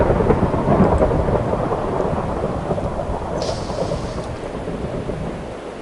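Thunderstorm in Minecraft: dense, loud rainfall pours steadily alongside a deep rolling thunder rumble that slowly eases toward the end.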